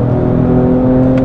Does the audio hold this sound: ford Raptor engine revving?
yes